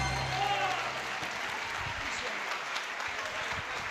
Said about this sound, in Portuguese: Você pode aplaudir a Jesus pela vida do servo de Deus?